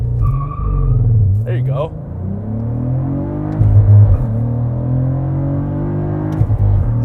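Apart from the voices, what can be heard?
2023 Cadillac CT4-V Blackwing launch, flat foot shifting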